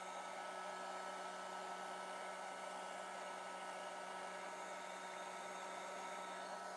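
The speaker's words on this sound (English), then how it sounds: "take my airbrush and using that to start pushing the paint around" Airbrush pushing paint across an Ibanez Jem guitar body, a steady close hiss of compressed air that holds evenly throughout with no other sounds.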